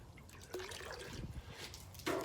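A garden hose set on low trickles water over feed, a short, quiet, close splashing and dribbling that swells briefly near the end.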